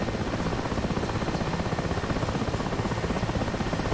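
Steady, loud rotor and turbine drone of a Mi-8 helicopter in a flight simulator game, flying heavy-lift work in a snowstorm, a continuous dense whir with faint rhythmic blade chop and no talking.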